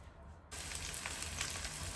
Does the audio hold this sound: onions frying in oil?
yes